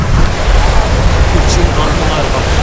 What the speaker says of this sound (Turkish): Hırçın dalgalar var.